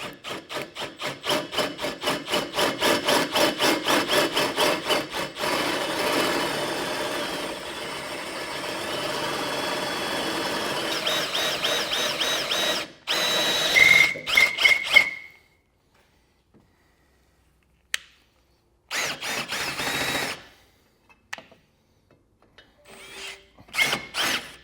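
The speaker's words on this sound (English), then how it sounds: "we're going to go from the underneath and drill all the way through this one" A power drill whines steadily for about fifteen seconds while drilling up through a car's steel frame to enlarge a hole, then stops, followed by a few short bursts and clanks.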